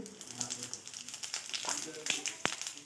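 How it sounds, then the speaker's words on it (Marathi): Cumin seeds crackle in hot oil in a kadhai (wok), a quick scatter of sharp, close pops and sizzles at a modest level with no voice over them. "जिरे छान तडतडले"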